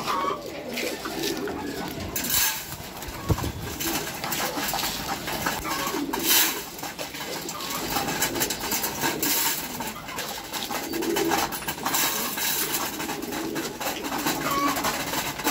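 Racing pigeons coo at feeding time, a steady low cooing and fluttering layered with clinks and rustles close by, with a little faint talk in the background.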